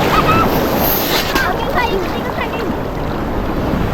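Strong ocean waves roll and break on a beach in a steady, loud wash of surf, with heavy wind buffeting the microphone. No clear voice is heard.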